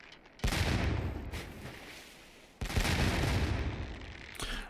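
Right-side cannon broadside from a sailing warship in the Sea Dogs naval game, two heavy roaring volleys of booms with long rumbling tails, loud and close, no talking.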